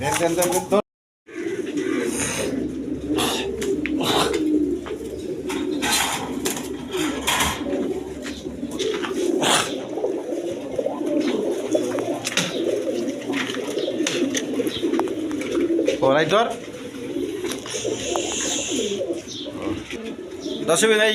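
Pigeons of assorted breeds crowd their clay nesting pots, cooing continuously in low, throaty rolls close by, while someone talks over them and sharp clatters and taps break in now and then.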